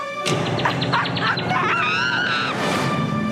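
Pet bird calling in a household setting, a run of quick squawks and honking, warbling calls, loud and close with no talk.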